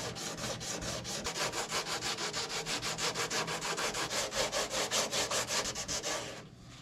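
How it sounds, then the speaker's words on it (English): Rhythmic sanding strokes rasp back and forth against cured sanding resin on a surfboard, steady and close, before stopping abruptly near the end. "we do need to sand that in order to get the next layer to bond"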